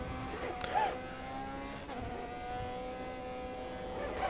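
A race car in GRID Autosport laps a track with a steady, close engine drone and sustained high harmonics, one brief rev spike near the start; no voices.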